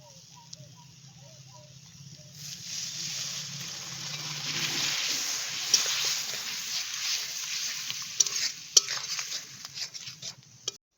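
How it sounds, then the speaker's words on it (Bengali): Water poured into tomatoes frying with turmeric and salt in a pan for a Bengali fish-roe kofta curry, a steady hiss and sizzle building after a quiet start, with light clinks and scrapes toward the end. "টমেটোগুলো দিয়ে ভালো করে ভেজে নিলাম এখন সামান্য একটু জল দিয়ে দিচ্ছি"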